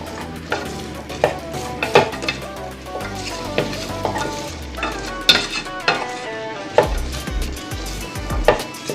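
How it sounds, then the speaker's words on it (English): Onions sautéing in a pot for pumpkin soup: a soft continuous sizzle punctuated by irregular clanks and scrapes of a utensil stirring against the pot, close and fairly loud. "you just want to go and saute them until they're translucent"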